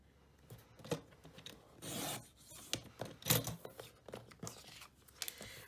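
Paper being trimmed to size for a Graphic 45 card folio, rasping and rubbing strokes with a longer swish in the middle, close and fairly quiet, with no voices.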